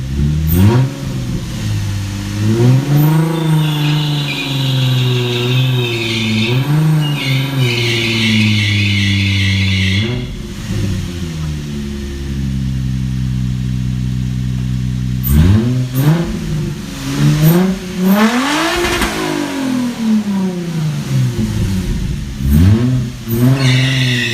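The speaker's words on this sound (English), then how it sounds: "So that was a little burnout." A Toyota Supra does a burnout, its engine revving hard in repeated rising and falling surges with a squealing tire note, a sustained high rev in the middle, then more sharp revs, loud and close without talk.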